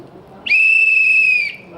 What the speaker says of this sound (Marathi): आणि ही माझी शिट्टी